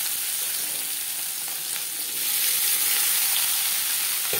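Onions and tomatoes hit three spoons of hot refined oil in a kadai for a fish curry gravy, giving a steady, close hiss of frying that swells louder partway through as the pan is stirred.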